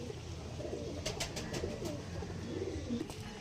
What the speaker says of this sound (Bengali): তো আরও দুটো পায়রা দেখাচ্ছি